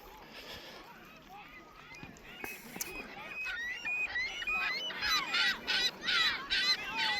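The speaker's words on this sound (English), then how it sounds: "those gulls want food." Gulls call repeatedly at a Lake Winnipeg beach, with sharp squawks and mewing cries growing louder and more frequent over outdoor ambience, some near and some farther off.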